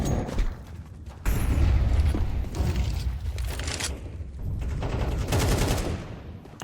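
Gunfire in a competitive shooter video game match plays close and loud, with rapid bursts and a sharp shot at the start, then sustained automatic firing with short gaps and no talk.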